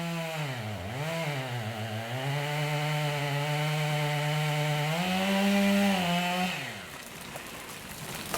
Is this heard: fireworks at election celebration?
no